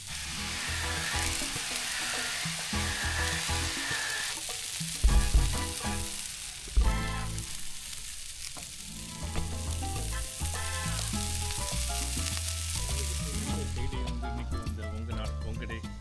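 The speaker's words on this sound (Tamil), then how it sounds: "வெளியில் இருக்கிற இந்த க்ரில்லில் நம்ம மசாலா போட்ட அந்த வஞ்சர மீனை வச்சு சமைக்க ஆரம்பித்தாச்சு" Masala-coated seer fish sizzling on an outdoor campsite grill, a steady close crackling hiss that runs throughout, broken by a couple of sharp knocks, while people talk over it.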